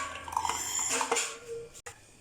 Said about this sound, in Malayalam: നമുക്ക് മിക്സിയുടെ ജാറിലേക്ക് മാറ്റാം.